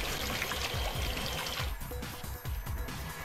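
Acidic water pours steadily from a container in a video game, a continuous rushing splash that thins into a lighter trickle midway.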